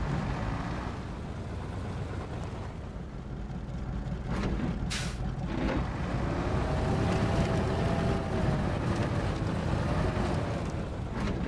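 A truck in the MudRunner off-road game grinds through mud in all-wheel drive, its engine droning low and steady with a brief hissing burst midway, then a strained whine climbing under the rumble.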